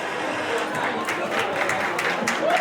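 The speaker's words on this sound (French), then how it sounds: "Applaudissements pour le DJ Maru, s'il vous plaît." Party guests clap for the DJ at a fiftieth birthday celebration, a dense, steady patter of applause and crowd noise filling the room, with voices mixed in.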